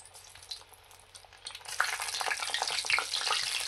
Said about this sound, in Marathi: आणि व्यवस्थित असं त्यांना फ्राय करून घ्यायचं